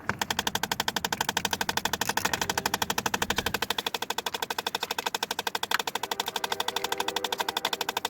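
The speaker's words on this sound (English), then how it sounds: "You can actually hear the blend door right now, and the car's off." A faulty blend door actuator in a parked 2012 Chrysler 300 clicks in a rapid, perfectly regular stream of sharp ticks, steady and fairly close for the whole stretch.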